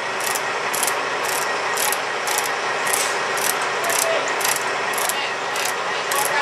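A Snap-on ratcheting tool turns a fastener on a motorcycle brake or clutch lever, giving about a dozen crisp, evenly spaced bursts of pawl clicks over steady background noise, close and loud, with no talking.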